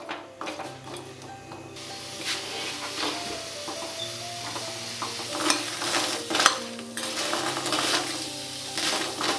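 Jackfruit seeds dry-roasting in an oil-free pan over low heat, with steady soft sizzling and repeated stirring scrapes and clinks of a utensil against the pan, continuous and close.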